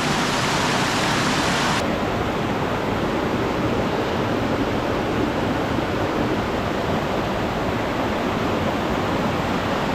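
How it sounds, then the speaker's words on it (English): Heavy rain pours down steadily in the open along a rugged hiking route to Adam's Peak in Sri Lanka, a loud, dense, continuous roar with no talking. "It started raining, pouring down."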